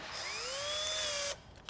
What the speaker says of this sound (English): I'm gonna try a smaller drill gun